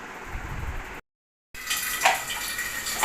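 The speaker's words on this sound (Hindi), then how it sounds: "आज हमारा सर्विस हुआ था, और तो इसी का पानी निकाल रहे हैं" Water drains out of a household water purifier after servicing, a continuous splashing flow heard up close. It breaks off briefly into silence, then resumes with louder spattering.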